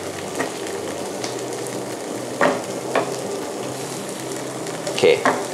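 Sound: eggplant stir-frying in green curry

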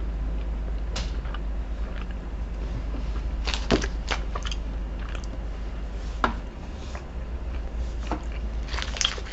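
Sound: biting into a Cinnamon Bun Snickers bar

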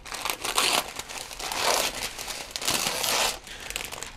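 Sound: crinkling aluminum foil while wrapping guitar binding

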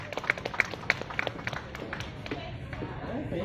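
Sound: audience applause

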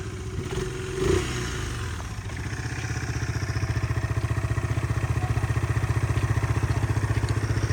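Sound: Yamaha Majesty 250 scooter engine running

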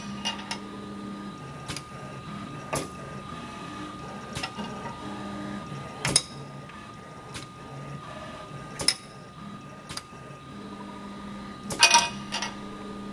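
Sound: SCARA robot moving with pneumatic parallel gripper

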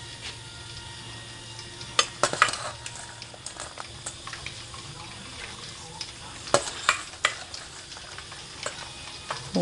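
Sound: pork skin frying in oil for cracklings

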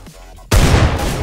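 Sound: wallbang headshot gunshot in a video game

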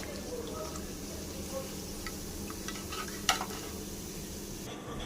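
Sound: coriander leaf fritters (bora) frying in oil

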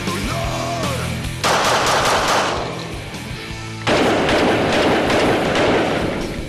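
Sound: Walther P99 pistol firing rapid shots

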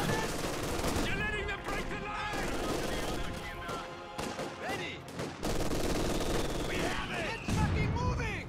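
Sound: machine gun firing in video game Company of Heroes 2

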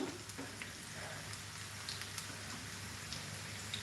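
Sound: dough popping in hot oil

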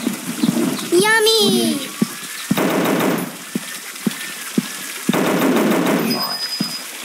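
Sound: gunshots in a dinosaur hunting video game

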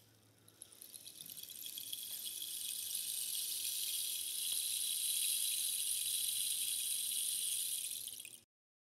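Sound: homemade rain stick with seeds and nails inside

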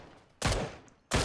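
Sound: gunfire in a video game

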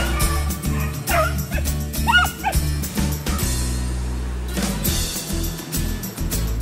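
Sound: beagle hunting dogs baying while tracking game

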